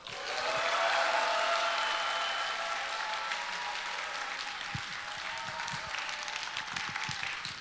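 Enthusiastic applause and cheering from a seminar audience, steady dense clapping sustained throughout at moderate loudness, with scattered whoops and shouts joining in toward the end.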